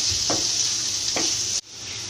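Chopped carrots stir-frying over medium heat with chicken chow mein ingredients, a close, loud, steady sizzle with two brief stirring scrapes; the sizzle drops away suddenly near the end.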